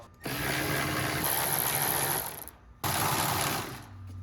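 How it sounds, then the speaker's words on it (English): Ratchet with a 10mm socket loosening cabin air filter box bolts, two bursts of rapid, close clicking, the first about two seconds long and the second shorter after a brief pause, with no talk. "We need a 10mm socket to take those off."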